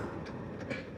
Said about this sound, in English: A nice thumpy engine.